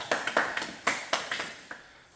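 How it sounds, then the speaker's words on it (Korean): Students in a school band-wrestling sports class clap in a short burst of separate, sharp hand claps, about eight or nine loose hits in two seconds, close and fairly crisp. "박수"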